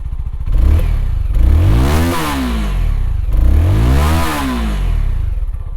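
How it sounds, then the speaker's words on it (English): A single-cylinder engine on a 2020 CFMoto 300SR motorcycle revs twice, rising to a loud, rough roar and falling back to a thumping idle between blips, close and with no talking. "that's the sound of a single cylinder engine"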